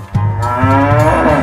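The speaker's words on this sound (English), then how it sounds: "Cow." A cow gives one long, loud, sustained moo, close by and steady in pitch, with no other sounds around it.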